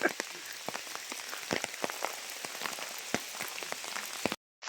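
Gentle rain falls in a steady hiss at a dam, with irregular nearby drops tapping on a surface; it cuts out briefly near the end.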